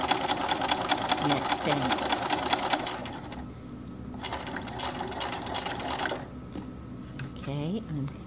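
A sewing machine runs steadily while stitching a seam on a quilted five-pointed star block, a dense mechanical whir that stops and restarts in short bursts, with a person talking briefly over it.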